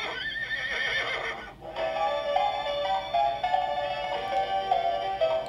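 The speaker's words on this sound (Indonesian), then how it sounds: "dia bakal kayak ngeluarin suara kudanya dan sambil lari gitu loh" A Toy Story Bullseye toy horse from the Signature Collection plays a recorded neigh and whinny, then a brief gap and galloping clip-clop with jingly electronic tones, loud and close.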